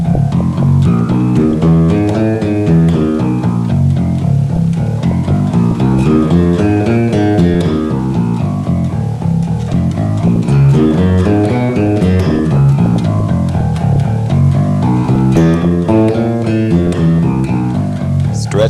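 Electric bass plays a steady finger exercise, a continuous run of plucked notes climbing and descending in repeating patterns, loud and close with no talking.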